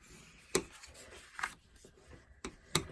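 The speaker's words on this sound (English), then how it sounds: "I'm going to make each fold opposite that first one and flip it over and do it again and burnish those." Soft, close rubs and scrapes come from paper folds being burnished for a small twin pocket purse, four short quiet strokes spaced irregularly with faint rustling between.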